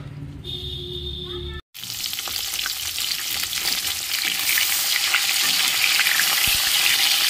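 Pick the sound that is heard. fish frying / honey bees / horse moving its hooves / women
fish frying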